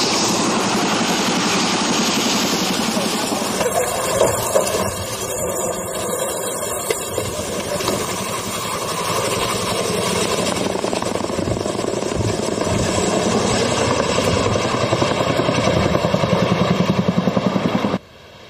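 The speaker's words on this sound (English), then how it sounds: "Apache helicopter." An Apache helicopter flies overhead near a dam in Helmand province, Afghanistan, a loud steady rotor and engine roar throughout with rhythmic blade chop, close and continuous until it cuts off at the end.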